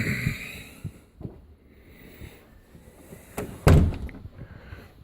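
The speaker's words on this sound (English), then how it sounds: "See, that door closes." A door inside a house is shut, giving a single solid thump near the end after a few softer knocks and handling sounds, close by with no talking.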